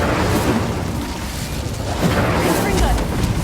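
Hogwarts Legacy spell combat with rapid casts, loud rolling explosions and booming blasts layered over constant battle noise, with a heavier low thump near the end.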